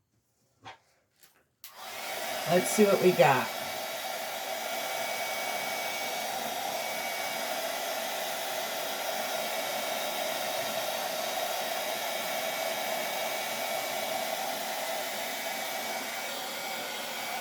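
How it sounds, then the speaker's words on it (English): A hair dryer, used on an upcycled wooden desk drawer, starts up after a brief spoken remark and blows steadily, a continuous loud whooshing hum that keeps going to the end. "I'm going to hit it with my dryer real quick to see where we're at"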